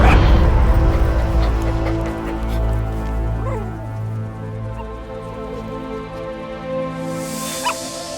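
A puppy in the Metal Gear Solid 5 video game in northern Kabul, Afghanistan, barking and whimpering in short, faint yips over a steady low game soundtrack and ambience.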